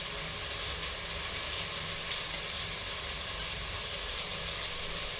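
Egg sizzles steadily while being sautéed in a pan, a constant close hiss with faint scattered crackles throughout.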